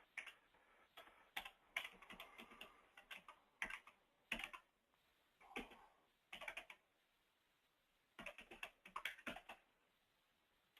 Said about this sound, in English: So I would probably type